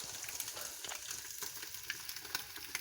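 Eggs fry in a kadai over a low flame, a soft continuous sizzle with faint crackles, fairly quiet and with no voices.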